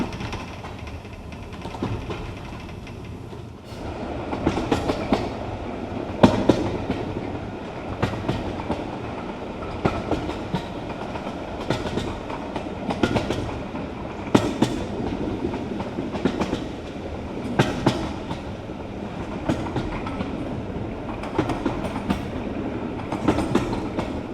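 A steam train rolls steadily along the rails, its wheels clattering in a rhythmic clickety-clack with periodic sharper knocks, fairly close and continuous, with no voices.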